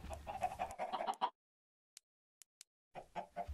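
Chickens in a coop in Minecraft give close, clipped clucks in a quick run. A silent stretch with a few faint ticks follows, then the clucking picks up again.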